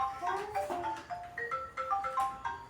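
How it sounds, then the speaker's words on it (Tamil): A phone ringtone plays a repeating melodic tune close by, steady and moderately loud, with people talking over it. "ஃபோன் வந்துருச்சு உனக்கு. அழைப்பு மணி வந்துருச்சு."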